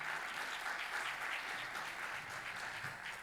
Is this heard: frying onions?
no